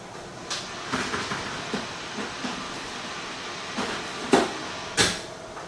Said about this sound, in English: we're gonna just put it back in the air fryer